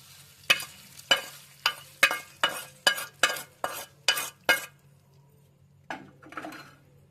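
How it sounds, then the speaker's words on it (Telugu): A spoon knocks against a bowl while mixing a cooled tempering into yogurt for brinjal curd chutney, about ten close, evenly spaced clinks, a pause, then a softer scraping stir. "ఇప్పుడు పెరుగులో కలుపుకుందాం మనం"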